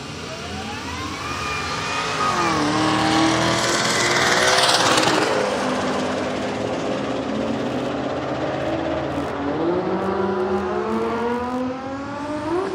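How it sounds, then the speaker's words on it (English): Drag race cars at a road trip drag challenge roar down the track, engines climbing through rising gear sweeps, swelling loud as they pass and then fading into the distance, with no talk over them. "Watching the big cars go down the track"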